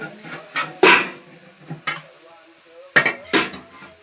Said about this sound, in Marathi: मी तुम्हाला दाखवते आता कशी परतून घेते